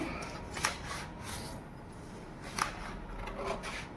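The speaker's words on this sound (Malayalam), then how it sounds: "അപ്പോൾ ഞാനിവിടെ കട്ടിങ് കാണിക്കാം" Quiet scissors snip through fabric being cut for a V-collar kurti, a few short close crisp cuts with soft rustling between them.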